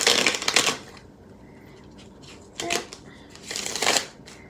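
Tarot cards being shuffled by hand, three bursts of crisp riffling close up, separated by quieter pauses, with no talk.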